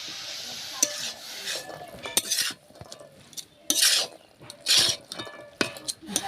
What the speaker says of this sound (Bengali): মশলার সঙ্গে ভালো করে কষে নেব এই মোচাটা।